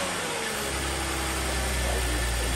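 A BMW Z4 3.0 six-cylinder engine idles nearby after a misfire repair on a salvage car, a steady low rumble with constant vibration and no notable changes in speed.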